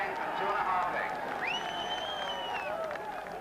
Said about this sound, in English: This will be the greatest reception you'll ever have heard or seen at Cheltenham as John Joe comes into the winner's circle,